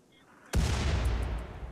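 A single loud gunshot cracks out in the Rimworld game after a quiet start, then leaves a rumbling, noisy tail that fades over about a second.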